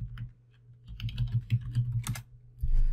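Computer keyboard being typed on while entering login details, a short burst of close, uneven key clicks and taps with a brief pause near the start, no talking.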